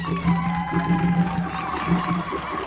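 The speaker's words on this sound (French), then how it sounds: "On applaudit encore une fois le rouge." A school quiz audience cheers and claps for the red team from Collège Bosangani 2 in Bandalungwa, a steady crowd roar with whoops throughout, close and moderately loud, a voice faintly audible within the noise.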